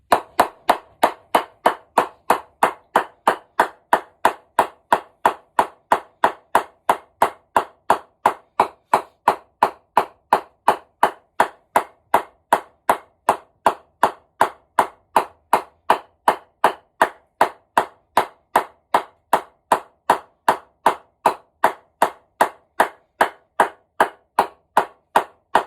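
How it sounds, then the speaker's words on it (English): A mallet knocks in a cricket bat with a long, steady run of evenly spaced wooden thuds, about three per second. The blows are close and crisp, with no talking. "I'm just going to give this bat a bit more of a whack so you can see some more dents"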